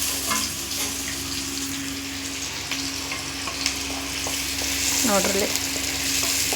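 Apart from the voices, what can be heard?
poori frying in hot oil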